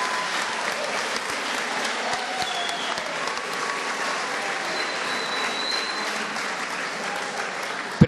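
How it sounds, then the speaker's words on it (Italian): A large crowd claps steadily and continuously at an outdoor sports festival, a dense, even wash of applause that keeps going without a break. "facciamo un applauso a tutti voi."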